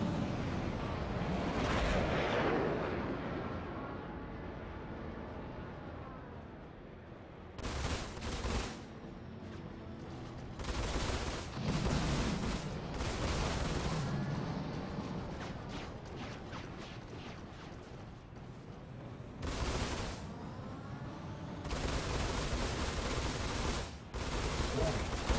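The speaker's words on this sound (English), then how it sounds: "because I've got such a high rate of fire, I'm still able to get some shots off and get some points" Rapid ship weapons fire in the Star Citizen Arena Commander space combat game, repeated fast bursts with dense, crackling texture over a rumbling engine bed, loud throughout, with a voice talking at times.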